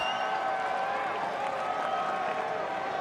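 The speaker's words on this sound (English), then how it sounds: "I can see you clapping down there, DB" Baseball stadium crowd keeps up a dense, steady wash of clapping and murmur, distant and continuous throughout.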